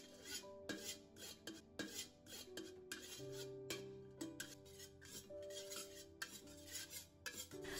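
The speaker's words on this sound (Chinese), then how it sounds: "用铲子不停地搅动，开小火慢慢的翻炒。" Sugar melting in a pan over low heat as a spatula stirs it, giving quiet repeated scraping and clinking strokes in a steady rhythm, faint and close, with soft background music and no talk.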